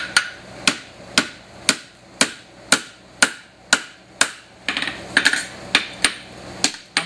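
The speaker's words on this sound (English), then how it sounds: "pulling with my hammer." A blacksmith's hammer strikes hot steel while forging a horseshoe heel, about a dozen sharp ringing blows in a steady, evenly spaced rhythm with a brief cluster of lighter taps partway through and no talking.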